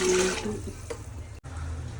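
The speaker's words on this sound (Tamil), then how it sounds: "இப்போ நான் வந்து 6 கிளாஸ் தண்ணி ஊற்ற போகிறேன்." Water is poured from glasses into a cooking pot of simmering chicken for a Christmas chicken biryani, a steady close splashing pour that breaks off briefly and resumes.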